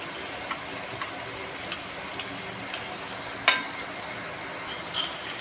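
Homemade peanut and chilli masala being stirred into papdi bhaji frying in oil, a soft steady sizzle with light scraping and a couple of sharp utensil clinks against the pan, no talking.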